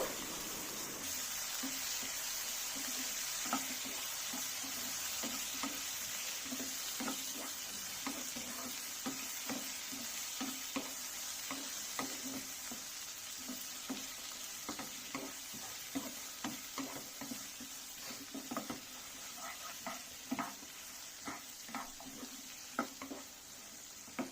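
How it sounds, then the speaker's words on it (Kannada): Tomatoes fry and sizzle in a pan for prawn curry, a steady hiss under repeated scraping strokes of stirring, close and fairly loud throughout with no talk. "ಟೊಮೆಟೊ ಚೆನ್ನಾಗಿ ಫ್ರೈ ಆಗಬೇಕು."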